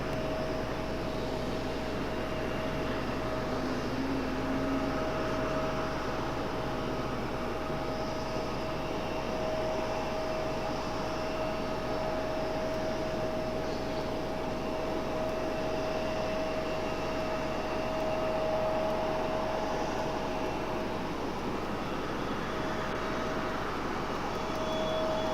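A Southwest airliner arrives on runway 5 right at Raleigh-Durham airport, heard as a steady broadband jet engine roar with a faint whine, distant and sustained, with no voices.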